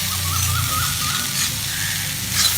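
Breadfruit thoran frying in a pan while being gently stirred, a soft steady sizzle with faint scraping movements, close and continuous.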